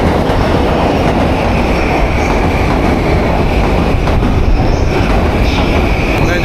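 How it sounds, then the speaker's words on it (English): A Tokyo train running at speed fills the scene with a loud, continuous rumble and rushing roar, with faint rail clatter and occasional high squeals, heard from inside the car with no talk. "Man, this train is so freaking fast"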